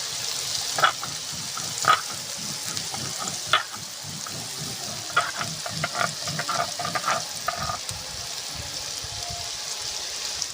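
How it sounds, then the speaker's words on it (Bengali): Carrots and yardlong beans fry in a pan with a steady close sizzle, broken by a few sharp stirring clicks and scrapes of a utensil against the pan. "ওদিকে গাজর আর বরবটিটা ভাজা হতে থাকুক"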